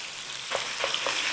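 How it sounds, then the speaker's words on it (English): Beef mince dropped into hot olive oil in a pan, giving a steady loud sizzle with a few soft stirring knocks near the end, close up and with no talking. "Olive oil in your pan. Flame on. In there with your beef mince."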